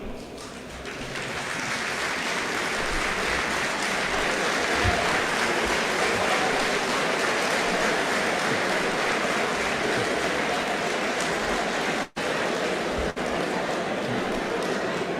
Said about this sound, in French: je voudrais bien demander à cette jeunesse de se lever et de s'acclamer